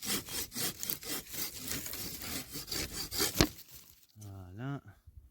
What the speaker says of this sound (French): Ici, je vais aller scier les petites branches.